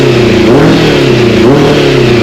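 A Suzuki Bandit motorcycle engine revs loud and close in two rising swells, running with a slight misfire that roughens its steady drone.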